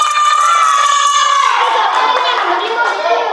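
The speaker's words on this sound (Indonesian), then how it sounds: "Tepuk tangan semua dulu" Schoolchildren in a classroom clap together, loud and close, the clapping half buried under their excited shouting and cheering voices.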